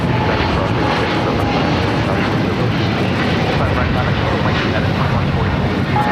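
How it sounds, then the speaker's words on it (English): A KLM Boeing 777-200ER taking off from LAX for Amsterdam makes a loud, continuous broadband engine roar that stays unbroken throughout, with faint voices mixed underneath. "604 taking off to Amsterdam on the 777-200ER"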